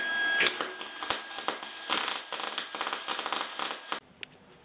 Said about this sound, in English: the plan is to use my aluminum welding wire to weld that missing piece back up